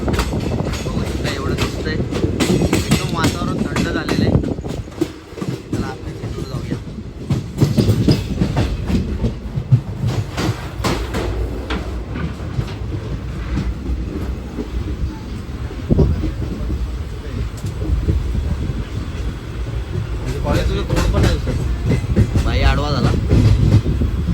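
A night Indian Railways train from Kalyan toward Akola rumbles along the rails near Igatpuri with rhythmic clacking and occasional metallic squeals, heard from inside, with people talking faintly at times.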